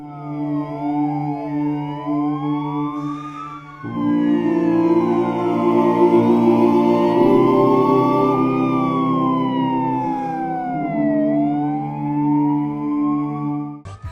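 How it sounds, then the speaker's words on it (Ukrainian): Wailing sirens of a funeral procession for a Ukrainian hero near Stara Ushytsia rise and fall in overlapping sweeps, loud and steady throughout, with several sirens layered together and no talking. "виттям сирен похоронного кортежу українського героя"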